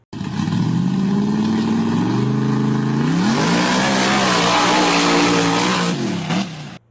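A nitrous-equipped go-kart engine revs hard down a driveway, its pitch climbing and dropping through several throttle swells. It sounds loud and near, with a raspy, rising howl and no voices.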